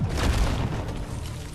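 Bosco the drone's rockets blasting rock in the Deep Rock Galactic video game give off a loud, sustained rumbling boom that holds steady for over a second with heavy low-end energy.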